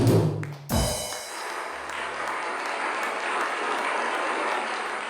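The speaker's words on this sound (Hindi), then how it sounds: "इनके लिए बहुत सारी तालियां जी, बहुत सारी तालियां।" Studio audience on a late-night talk show bursts into sustained, loud applause after a brief opening sound, the dense clapping holding steady to the end.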